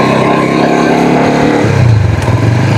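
Rusi Flash 150X motorcycle with a four-valve liquid-cooled engine accelerating up through the gears, a loud, steady close-up drone that drops in pitch at a gear change partway through.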